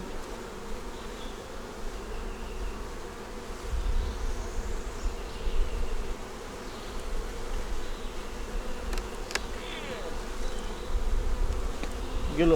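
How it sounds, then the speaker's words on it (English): Honeybees buzzing around an opened hive during an inspection, a dense, steady hum close to the listener with a few brief sharp knocks and clicks near the end, no talking. "Put these bees back in there."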